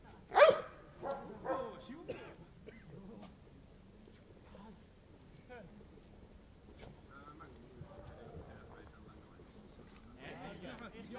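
Guard dog barking during protection training, a few sharp loud barks at the start, then quieter yips and scuffling, with a person talking over parts of it.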